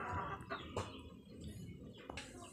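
Chicks of a hybrid Basilan fighting chicken, a few surviving from a batch of 25, peeping and clucking in short scattered calls close by.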